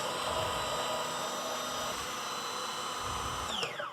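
A food processor grinds homemade hummus close by with a loud, steady whirring motor drone that runs throughout, then winds down slightly at the end.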